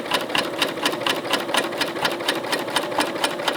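A sewing machine fitted with a compensating foot stitches over seam allowances, a steady fast rhythmic clatter of needle strokes, close and continuous with an even motor hum underneath.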